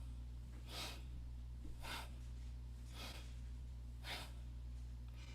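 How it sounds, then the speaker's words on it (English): Deep yogic breaths pass audibly through the throat, four or five slow, evenly spaced rasping exhalations and inhalations, close and breathy over a low steady hum. "sound through your throat, when you breathe in and breathe out, make that sound"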